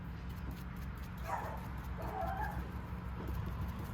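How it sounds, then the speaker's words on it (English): A couple of faint, distant dog barks or yips over a steady background hum, with no talking. "sorry, dog's barking."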